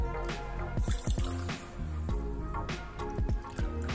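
Water is poured from a cup into a thick pot of sugar on the stove, giving a close, steady trickling and splashing with irregular drips.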